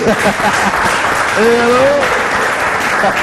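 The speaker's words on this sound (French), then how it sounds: "Est-ce qu'on peut applaudir?" Steady audience clapping at a comedy show continues throughout, with a voice briefly rising over the applause partway through.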